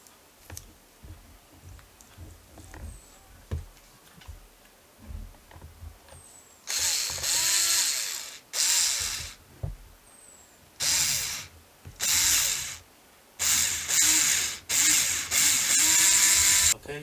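A power drill drives screws into a Losi 5ive T chassis during its build, running in repeated loud bursts of a second or two with short pauses between them, after a stretch of quiet clicks and handling noises.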